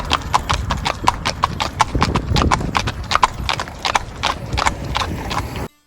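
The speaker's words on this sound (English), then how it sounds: "Here a group takes a carriage ride." Horse hooves clip-clop in a steady, close rhythm as a horse-drawn carriage takes a group for a ride through a port town in the Azores, with faint voices and street noise underneath.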